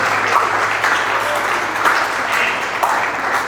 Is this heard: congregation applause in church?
yes